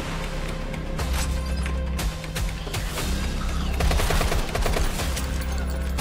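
Heavy gunfire in The Killing Antidote video game, rapid volleys of close, loud shots firing almost nonstop throughout.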